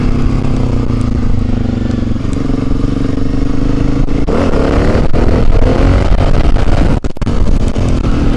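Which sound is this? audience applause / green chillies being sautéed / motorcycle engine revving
motorcycle engine revving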